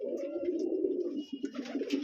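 Racer pigeons coo steadily in a loft where a hen is laying eggs, several birds overlapping in a dense, continuous low murmur with a few higher chirps near the end, fairly close and loud.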